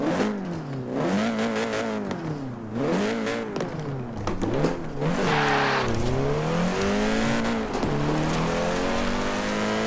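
Volkswagen Golf R engine in Forza Horizon 4 revving up and down repeatedly, the pitch rising and falling in steady surges with tire noise, loud and close throughout with no talk.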